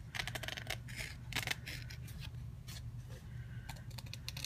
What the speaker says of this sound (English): So just take your scissors and trim that edge